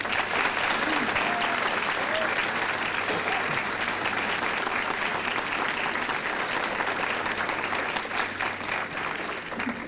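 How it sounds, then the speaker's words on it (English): Sustained audience applause fills a graduation ceremony hall, a dense, steady roar of many hands clapping at even loudness for the full length, with faint crowd murmur underneath. "Let's give them a hand of applause."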